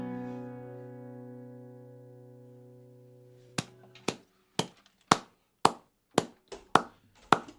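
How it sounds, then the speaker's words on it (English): Eight sharp hand claps in a steady, evenly spaced rhythm, close and fairly loud, following a fading sustained tone; no talking. "Have to keep clapping till your earphones go in."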